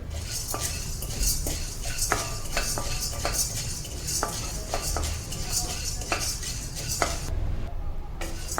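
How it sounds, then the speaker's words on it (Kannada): Peanuts dry roasting in a pan without oil, stirred continuously, giving a dense rattle of nuts with sharp clinks of the spoon against the metal pan, close and steady. "ಹಾಗೆ ಡ್ರೈ ರೋಸ್ಟ್ ಮಾಡ್ಕೊಳ್ತಾ ಇದ್ದೀನಿ ನಾನು, ಯಾವ ಎಣ್ಣೆನೂ ಹಾಕಿಲ್ಲ"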